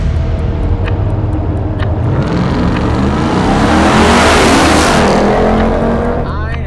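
A heavily modified all-wheel-drive Jeep races a rear-wheel-drive Lamborghini Huracan from a standstill to about 130, engines roaring loud and continuous as they accelerate, with a rising surge of noise and a voice heard briefly.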